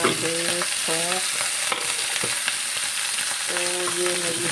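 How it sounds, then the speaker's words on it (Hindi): Hot oil tempering (chhaunk) for dal sizzles steadily in a home kitchen where potato-cauliflower is being cooked, with a few short metallic scraping clinks over the frying hiss. "इसको लगाना रह गया है छौंक।"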